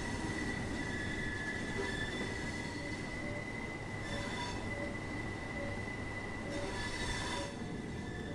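A Class 377/4 electric train in the Train Sim World 2 simulator runs steadily with a constant rolling rumble, wheel squeal and faint periodic clicks, heard alone without talk.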